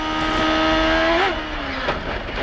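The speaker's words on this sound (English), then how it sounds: "Now you ride on board Vasser's car, looking to the rear." A 1996 CART IndyCar race car at Michigan International Speedway, heard from an onboard camera facing rearward, gives a loud, steady engine whine. Its pitch dips, holds briefly and then settles lower as the throttle eases amid heavy wind and track roar.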